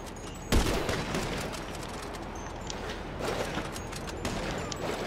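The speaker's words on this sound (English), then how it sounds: "I shot somebody. I got shot." Gunfire in GTA V during a team shootout: one sharp nearby shot opens, followed by scattered distant bursts of weapons fire, fairly faint, over a steady noisy game background.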